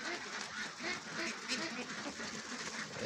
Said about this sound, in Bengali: এই দেখেন চলে আসলো আমাদের মাঝে হাঁসগুলো।